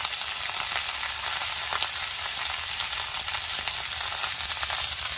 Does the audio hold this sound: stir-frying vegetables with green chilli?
yes